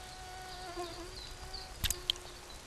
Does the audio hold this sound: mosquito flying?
yes